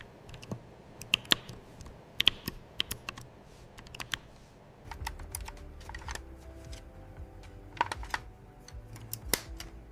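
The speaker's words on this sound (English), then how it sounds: "Every key is removed with care." Keycaps are pulled one by one from a worn, broken mechanical keyboard during a restoration, making sharp, irregular plastic clicks and snaps, some in quick pairs, over a faint background rustle.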